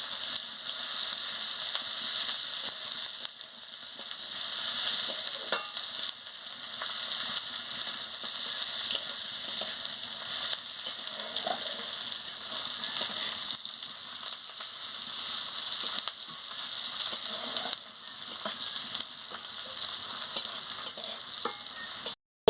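Steady frying sizzle from a pan as ingredients for a turnip, potato and plantain curry are fried and stirred, a dense continuous hiss with occasional soft scrapes, close and alone without talk.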